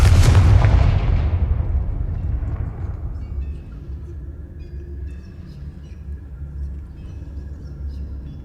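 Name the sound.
Confringo fire blast spell in the video game Hogwarts Legacy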